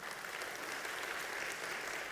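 Church congregation applauding together in a sanctuary, a dense, even wash of clapping held steady throughout, moderately distant and with no voices over it.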